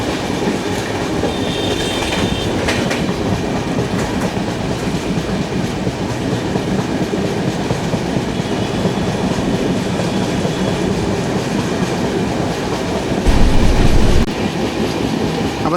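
Sleeper class train running from Mumbai to Pune through the rain-drenched Bhore Ghat, a loud continuous rumble of wheels and carriage with faint clickety-clack, steady throughout with a brief louder burst near the end.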